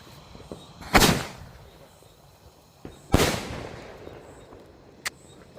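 Two loud, sharp Diwali firecracker bangs about two seconds apart, each trailing off into a brief rumble, followed by a smaller pop.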